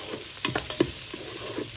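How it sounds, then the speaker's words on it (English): Onions sautéing in a Ninja Foodi multicooker pot give off a steady, close frying sizzle, with a few short stirring scrapes and clacks breaking through. "So now once you've got a sizzle going, you can just saute your onions in the Ninja"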